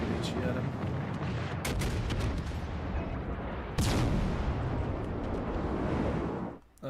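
Ship guns firing in the naval battle game World of Warships Legends, loud booming salvos with sharp blasts near two and four seconds over a dense rumbling wash of battle noise.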